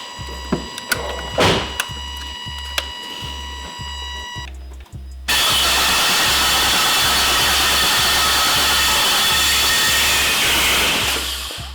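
A BMW E92 335i with a swapped LS V8 engine, tuned with MAXXECU and fitted with a DCT gearbox, cranks with whirring and pulsing starter noise, then fires into a loud, steady, roaring idle close by.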